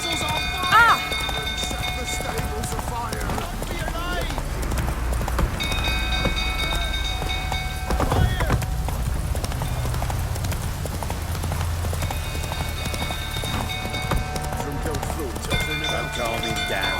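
Roach the horse gallops in The Witcher 3, hooves clip-clopping in a fast, steady rhythm close by, over continuous game ambience with brief voices.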